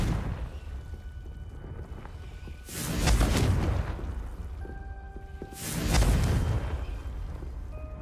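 A Confringo blast spell in Hogwarts Legacy erupts twice, each a swelling fiery whoosh and boom that rises, peaks loudly and trails off over a few seconds, with quieter ambient game sound in between.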